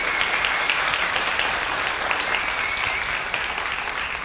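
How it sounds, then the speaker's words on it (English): Steady crowd applause at an outdoor Dodge-sponsored Roadkill Nights press preview, a continuous loud wash of many hands clapping with no speech over it. "Give them a nice round of applause."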